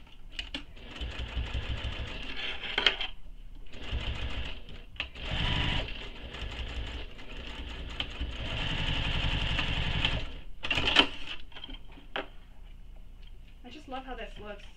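A sewing machine stitches a nylon bag with hardware attached, running in loud sustained bursts with short pauses between them, stitching forward and then backward, while a person talks in between.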